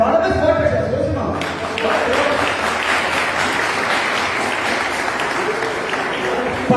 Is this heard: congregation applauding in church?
yes